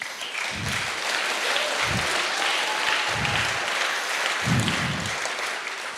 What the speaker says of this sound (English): Applause to absolutely everyone.